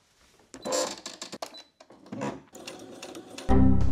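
A sewing machine stitches navy blue curtain fabric in short, uneven bursts of rapid mechanical clatter separated by pauses, ending in a louder sustained run.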